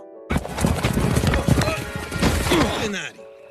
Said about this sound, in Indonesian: Jack memerintahkan kuda untuk bergerak maju, namun gagal sehingga Jack terjatuh